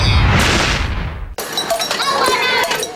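Firecrackers set off by children to welcome the New Year, with a loud, dense burst of crackling explosions that cuts off abruptly, followed by sharper scattered pops under people talking.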